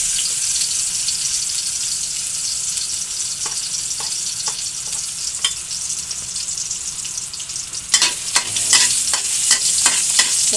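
Garlic sautéing in a hot pan, onion to follow: a steady bright sizzle with scattered scraping clicks of a utensil stirring, growing busier and louder toward the end, no voices.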